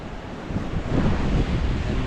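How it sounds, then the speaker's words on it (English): Steady wind rushes and buffets across the microphone at a beach near Sydney, Australia, a broad low roar that swells slightly midway, with no voices. "it's a bit windy, like kind of breeze"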